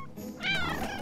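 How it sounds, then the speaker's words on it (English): A small kitten gives a single short, high rising meow in an animated cartoon, clear and close over faint background. "It's a little kitty."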